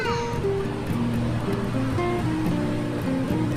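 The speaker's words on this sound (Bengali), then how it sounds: "তো এখানে মাংসটা এবার বসিয়ে দিয়ে দিল তেলে।" Meat frying in hot oil alongside squash in a home kitchen makes a steady, close sizzling hiss that fills the whole moment, with faint musical tones running underneath.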